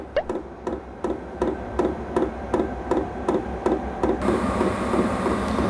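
A diesel parking heater's fuel pump knocks loudly in a steady, even rhythm of sharp ticks, about two per second, before a rising whoosh of warm airflow from the heater duct joins in.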